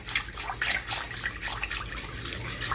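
Two spoonfuls of orange blossom water trickle and splash into a milky mahalabia pudding mixture: soft, close liquid pouring in a few uneven bursts, with no voices.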